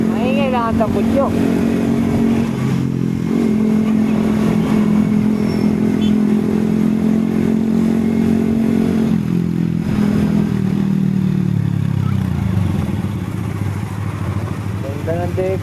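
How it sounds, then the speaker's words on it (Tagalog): A motorcycle with a noisy, loud exhaust idles and revs close by, a steady heavy engine drone with rising and falling pitch that runs through the whole stretch, accompanied by some clatter and scraping. "Maingay lang ang tambutyo."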